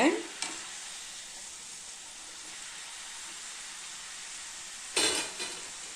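Kaara sev dough deep-frying in hot oil gives a steady, soft, close sizzling hiss, with a sharper clatter at the start and another brief rattle near the end.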